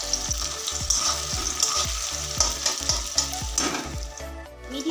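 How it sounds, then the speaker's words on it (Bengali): Onions deep-fry in plenty of oil over a medium to high flame to make beresta, giving a loud, continuous sizzle broken by regular stirring clacks about every half second, with no talking. "এখানে ছাকা তেলে কিন্তু পেঁয়াজটা ভেজে নিচ্ছি আমি"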